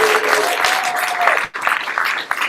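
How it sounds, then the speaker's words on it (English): A room of people at a monthly meeting applauding, a steady wash of clapping with a brief dip near the middle before resuming. "there's one veteran who deserves a huge round of applause"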